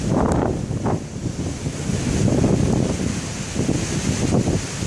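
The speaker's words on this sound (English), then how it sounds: "The water is flowing everywhere." Water flowing everywhere on a third-floor casino parking deck during a severe thunderstorm in Dubuque, Iowa: a steady, close rushing wash mixed with heavy wind buffeting on the microphone, continuous throughout.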